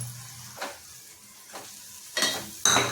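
Ground coconut paste dropped into a hot pan for an egg curry: sharp sizzling bursts and scraping stirs come in uneven surges, loudest near the end, with a faint hum between them.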